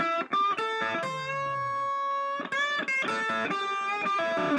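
Distorted electric guitar plays chords and a sustained note, gritty and thick, with short pauses between phrases.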